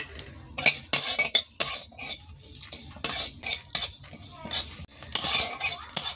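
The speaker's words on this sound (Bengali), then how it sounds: "এবার আমি জিরে ধনে পানমৌরিটা দিয়ে দিলাম" Cumin, coriander and fennel seeds dry-frying in a pan, heard as repeated bursts of scraping and stirring with a metal spoon against the pan, interspersed with light sizzling and crackling, close and loud.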